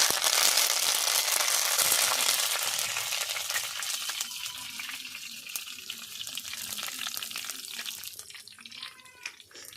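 Cinnamon, chilli and curry leaves dropped into hot oil with fried mustard and fenugreek seeds burst into a loud, crackling sizzle that gradually eases to a softer fry with a few sharp pops near the end.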